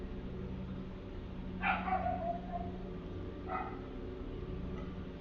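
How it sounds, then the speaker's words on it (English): A dog barks twice, somewhat distant and muffled, against a steady background hum with long quiet gaps between the barks. "Dog's barking at something."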